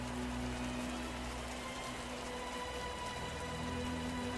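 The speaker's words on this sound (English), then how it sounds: "in the midst of the blue rain" Rain falling in the video game Path to Nowhere, a dense, even hiss of rain on surfaces over a soft steady tonal hum, constant and moderately loud with no voices.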